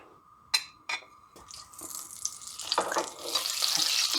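Butter hits a hot pot already holding a little oil with a couple of sharp taps, then a crackling sizzle builds steadily and grows louder and denser toward the end.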